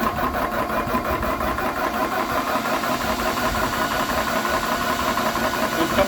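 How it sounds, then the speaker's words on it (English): An Airmax compressor runs steadily while filling a PCP air rifle, a continuous loud mechanical drone with a knocking, engine-like pulse and constant hiss, unbroken from start to finish with no talk. "This compressor will automatically turn off automatically after filling your PCP."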